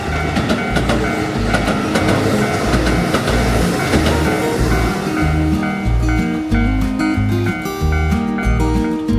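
A train rolls past close by at a level crossing next to an unstaffed station in Kyoto, its wheels clattering in a loud, rhythmic clickety-clack as carriages go by and the sound shifts toward lower rumbling.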